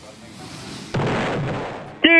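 A gunshot in a video game bursts out as a sharp blast and rumbling boom, followed by a tonal game sound, with voices mixed in.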